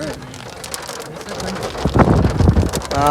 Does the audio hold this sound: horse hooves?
no